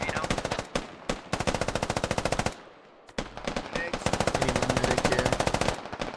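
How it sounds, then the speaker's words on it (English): Rapid automatic gunfire in the shooter game Operation: Trespass, long loud bursts of dense rattling shots broken by short pauses, firing close and continuous for most of the stretch. "Bartok Warriors are now firing in the north."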